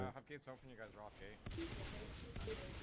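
Cluster grenade blasts in the game Natural Selection 2, a dense crackling burst of explosions that starts suddenly after a man's speech and rattles on loudly to the end.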